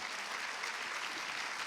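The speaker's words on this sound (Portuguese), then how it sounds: "Você pode dar uma salva de palmas para o Senhor?" A church congregation applauds the Lord together, a dense, steady wash of clapping from many hands filling the room at full volume throughout.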